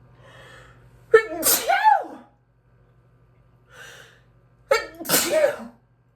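Two sharp sneezes, close and loud, a few seconds apart, each preceded by a quick breath intake, with quiet pauses between.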